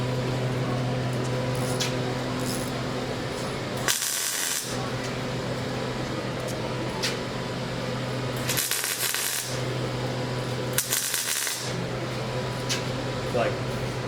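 A wire-feed welder works on a 1934 Ford, giving steady crackling, hissing sizzle with several brief louder bursts, over a constant low electrical hum; people talk nearby.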